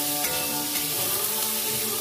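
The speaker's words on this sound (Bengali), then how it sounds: "এবার একটু ভালো করে ভাজা করে নিতে হবে" Chicken sizzles and fries in a pan with salt and turmeric, giving a steady crackling hiss with faint stirring scrapes and no voices.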